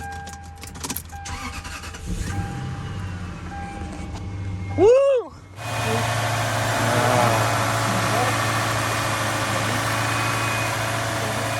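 A 200,000-mile Lexus GS 430 V8 cranks with a rising whine, catches and fires up, then settles into a steady idle; a person lets out a short cheer just as it starts.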